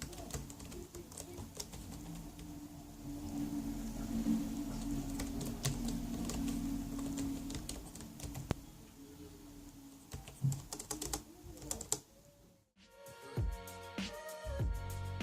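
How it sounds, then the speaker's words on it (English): Keystrokes on the keyboard of an ASUS Strix ROG GL553VE 15-inch gaming laptop, a steady run of close, quick clicks that stops abruptly near the end before a few louder taps and clatter follow. "This is what the keyboard sounds like."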